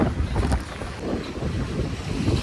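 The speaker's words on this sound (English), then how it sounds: "Wind is pretty bad, so you might not get much footage on the way back." Gusty wind buffets the microphone outdoors during a run at a track session, a steady low roaring rumble with slight surges that fills the whole clip and carries no talk.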